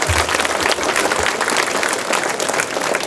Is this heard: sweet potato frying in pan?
no